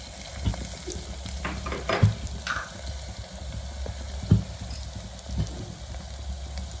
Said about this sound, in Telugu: ఇది ఇట్లా పోపులు వేస్తే మంచిగా వాసన వచ్చి తినాలని ఇంట్రెస్ట్ వస్తుంది.